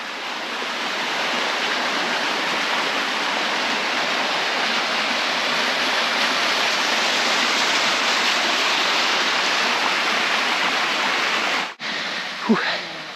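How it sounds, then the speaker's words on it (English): Waterfall on the Secret Waterfalls ecotrail in Bulgaria roars as a steady, loud, broadband rush of falling water, unbroken for most of the stretch before a brief dip and a short rising squeak near the end. "That's secret waterfall number 1."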